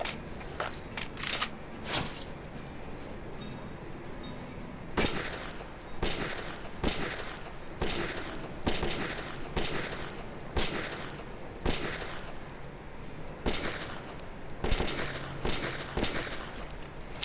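Gunfire on a firing range in the video game Metro 2033, a steady series of sharp single shots spaced a second or so apart, fairly close, over a low hum with no talk.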